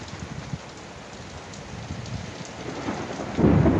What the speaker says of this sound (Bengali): এই যে বৃষ্টি শুরু হয়ে গেছে, মোটামুটি বৃষ্টি শুরু হয়ে গেছে।